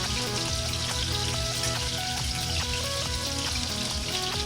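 Loud, steady sizzling and crackling of steak and vegetables frying in a hot pan, continuous throughout with no voices.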